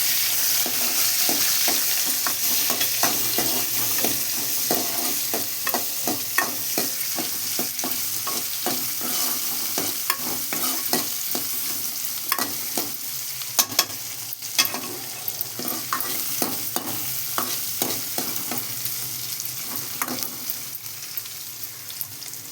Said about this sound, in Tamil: போட்டு செவக்க வறுக்கணும்.